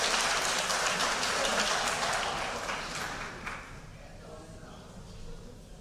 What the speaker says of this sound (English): Let's give another big round of applause to our varsity indoor track